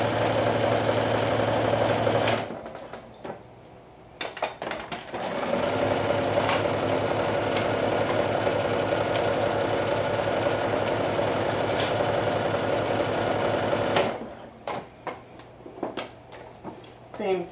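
A sewing machine stitches two fabric layers together in long, steady runs of rapid mechanical whirring, stopping briefly between bursts, with a voice talking over it.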